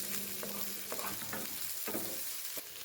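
Finely chopped shallots sauté in a pan for a raw plantain stir-fry, a soft steady sizzle broken by several clicks and scrapes of a spatula stirring against the pan, fairly quiet and close, with no voices.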